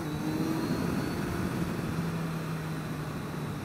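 Suzuki Hayabusa motorcycle engine downshifting on the approach to a corner, a steady loud drone with a shifting pitch as revs change, continuous wind-heavy rumble throughout, no talking.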